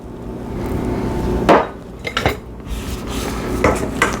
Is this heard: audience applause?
no